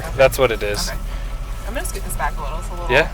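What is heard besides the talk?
No everyday noises stand out.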